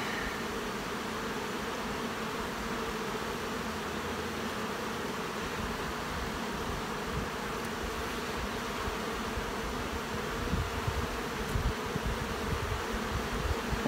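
Honey bees buzz in a dense, steady drone throughout a summer hive inspection, close and continuous, with no voices and a slight rise in intensity toward the end.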